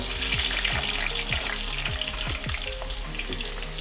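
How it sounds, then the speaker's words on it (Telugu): Loud, close crackling and sizzling of Indian gooseberries frying in plenty of hot oil, continuous and busy with sharp pops throughout. "బాగా నూనెలనే వేయించుకోవాలండి బాగుంటాయి"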